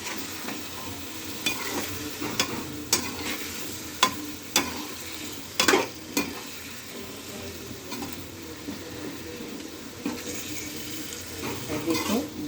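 Dry fenugreek and potato sabzi is stirred in a pan with steady scraping strokes and sharp spoon knocks over a soft, continuous sizzle, close and moderately loud, with no talking.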